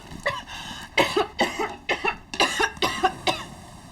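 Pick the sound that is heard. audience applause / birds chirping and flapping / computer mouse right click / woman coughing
woman coughing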